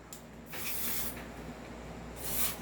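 Silicone oil sprays onto an airsoft gun's slide stopper and nozzle in two short, close hissing bursts from an aerosol can, with quiet handling between them.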